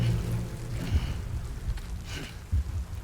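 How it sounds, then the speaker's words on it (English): Steady rain in the video game Death Stranding falls as a broad, continuous hiss with low rumbling underneath, a few heavier gusts or drops swelling briefly, no voices present. "is all the rainfall in the game timefall?"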